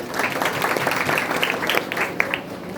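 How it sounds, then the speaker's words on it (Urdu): A church congregation claps loudly together in a dense, continuous burst of applause with scattered sharper hand claps standing out, filling a reverberant room for a few seconds. "اس کے لیے زوردار تالیاں بجائیں"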